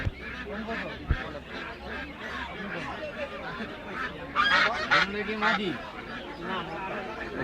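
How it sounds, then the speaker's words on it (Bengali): Male ducks at a busy poultry market give repeated loud, honking quacks close by, with people talking around them throughout. "দুটো হচ্ছে মর্দা হাঁস"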